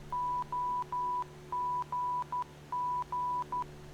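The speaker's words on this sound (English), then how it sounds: "you use the Morse code just to confirm that you are tuned into the correct VOR station" A VOR navigation beacon's Morse code identifier plays in a flight simulator as a steady, clean beeping tone in short and long dashes and dots, repeating evenly over a low background hum.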